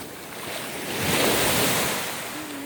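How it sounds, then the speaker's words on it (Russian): Sea waves wash onto the shore with a swelling surge of surf that rises and fades, mixed with wind across the microphone at a seaside holiday spot. "Шум моря, воздух."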